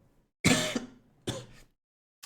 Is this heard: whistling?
no